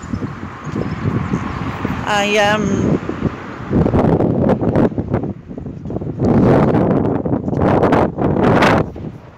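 Wind buffeting a microphone outdoors at a park and beach, with loud blustery rumbles swelling and fading repeatedly while a person talks and a brief tonal whine cuts through early on.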